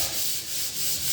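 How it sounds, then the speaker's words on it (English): Fine 320-grit sandpaper rubs back and forth across a wooden drawer front, a close, steady hiss in rhythmic strokes, heard alone without talk. "Just sanding out all the roughness with 320 grit sandpaper"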